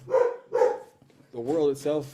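A dog barks twice in sharp, loud bursts near the microphone, followed by a longer whining, yelping vocalization, interrupting someone speaking about climate and the future.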